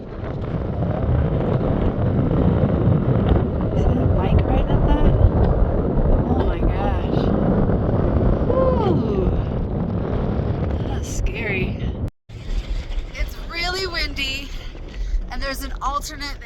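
Strong, steady wind buffeting the microphone along an exposed spine walk on a high Colorado Continental Divide Trail ridge between Breckenridge and Winter Park, a loud continuous roar that drops out briefly near the end and resumes more thinly.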